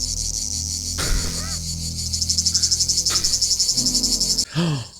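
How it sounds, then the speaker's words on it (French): Crickets chirp steadily in a fast, pulsing trill, joined by a few brief louder rustles and knocks close by, in the TV series From, season 2, episode 9. "Oh les grillons, ils sont là, ils sont là."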